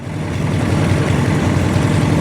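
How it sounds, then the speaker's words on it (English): A Honda CL175 motorcycle engine idles in a steady, close, low putter with an even pulsing rhythm and no voices. "Well, got the old thing idling good,"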